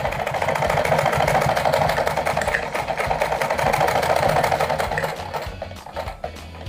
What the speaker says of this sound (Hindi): प्लेटों पे सिलाई लगाएंगे।